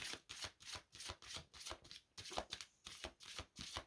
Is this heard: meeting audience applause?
no